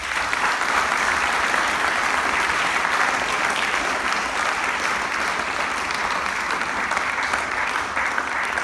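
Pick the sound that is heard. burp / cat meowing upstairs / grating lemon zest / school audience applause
school audience applause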